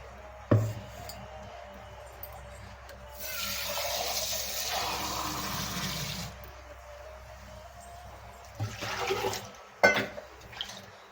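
Water pours steadily into a pot of catfish curry for a few seconds, with a couple of clinks and soft kitchen noises around it.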